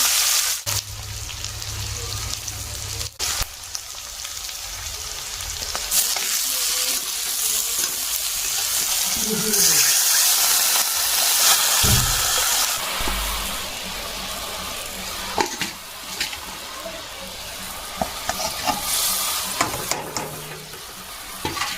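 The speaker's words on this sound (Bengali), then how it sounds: "এদিকে ক্যাটাবিলে মাছগুলো ভেজে নিচ্ছি" Oil sizzles and crackles steadily as fish fries in a pan, with occasional clinks and scrapes of stirring close by.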